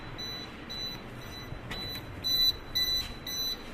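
A buzzer alarm on an MCC control panel that has tripped sounds as a series of shrill, evenly spaced electronic beeps, moderately loud over a faint background hiss, with the later pulses somewhat stronger.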